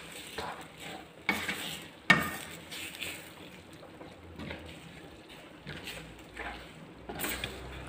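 Bihon and sardines frying in a pan, a low steady sizzle broken by occasional stirring scrapes and clanks, close and fairly quiet with no talk.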